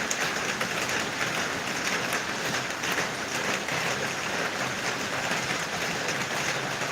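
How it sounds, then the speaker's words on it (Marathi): Steady rain falls outdoors in Kerala near a garden of marigolds and trees, a continuous broadband hiss of drops holding an even level from start to finish with no voices. "वरून पाऊस पडतोय"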